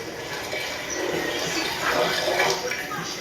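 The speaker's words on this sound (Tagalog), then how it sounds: "Ilalagay ko na yung tubig" Water gushes steadily into a cooking pot for pork sinigang, a close, continuous splashing pour that swells slightly before easing off.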